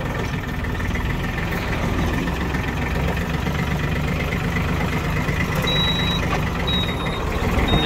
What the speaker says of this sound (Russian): Индикация включения задней передачи также присутствует, естественно.